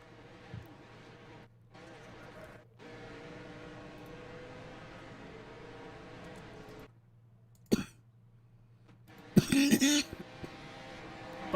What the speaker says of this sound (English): Did not mean to cough into the microphone.